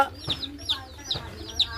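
Aseel-breed hens cluck in quick, bright bursts, several short calls repeating every half second or so, close by against a quiet background.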